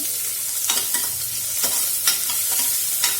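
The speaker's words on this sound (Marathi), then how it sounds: "मी आता पुन्हा एक कांदा आणि थोडासा कढीपत्ता, कांदा चिरून घालते" Chopped onion and curry leaves frying in a tempering for chukyacha varan, a steady close sizzle broken by repeated stirring scrapes in the pan, with no voices.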